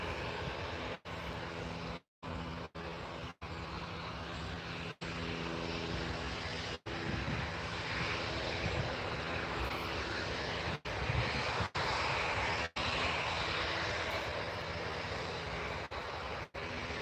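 Business jet engine at Newcastle International Airport, a steady loud broadband roar sustained throughout, with brief dropouts and no talk.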